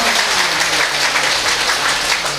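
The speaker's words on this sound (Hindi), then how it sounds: "एक बार जोरदार से उनकी तालियां बजाएंगे" Dense, loud applause rises from the audience at a Shrimad Bhagwat Katha gathering in the Rishishwar temple at Lohaghat, a brief burst of close, vigorous clapping with no talking over it.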